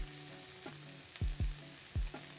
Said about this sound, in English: Make sure it does that sizzling is ready.